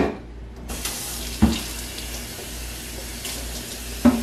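Tap water running while a Vitamix blender jar is rinsed, a steady hiss of flowing water with a few clunks as the container is handled.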